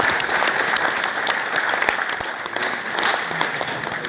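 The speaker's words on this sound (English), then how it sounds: "And thank you for clapping Ellie at that moment." Audience applause at a 25-year celebration event in Didcot: a room full of people clapping steadily at moderate loudness, dense and continuous throughout.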